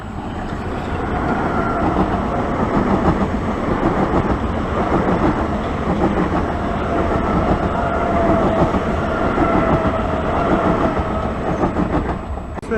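A train passes through St Johns station, a steady, loud rumble of rolling wagons with faint clickety-clack and a sustained whine lasting throughout, no voices.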